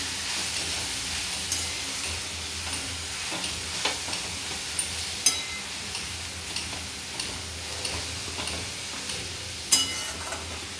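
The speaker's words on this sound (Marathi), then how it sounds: "आता आपण व्यवस्थित परतून घेऊया." Methi bhaji with peanut powder and chopped coriander being sautéed in a pan: a soft continuous sizzle broken by light regular ticks and taps of a spatula, fairly quiet and steady, with no talking.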